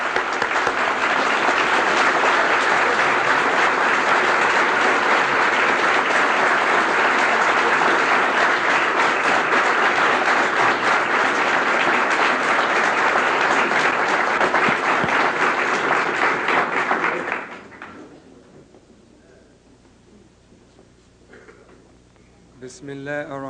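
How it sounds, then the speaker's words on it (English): An audience gives a warm round of applause to welcome Minister Louis Farrakhan, a loud, dense, steady roar of clapping that lasts about seventeen seconds and then stops abruptly, leaving a quiet room with faint rustles. "Let's bring him on with a warm round of applause."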